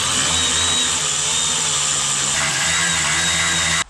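Steady, loud whine of a power tool driving screws on a Volvo climate box assembly (2016–22 heater core and evaporator housing) during a dashboard rebuild, running continuously for nearly four seconds before cutting off abruptly.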